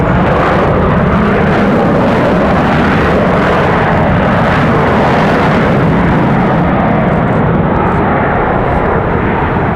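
A Boeing 767 jet arriving from Hawaii at Raleigh-Durham International Airport produces a loud, continuous engine roar and rumble that holds steady across the whole span with no talking.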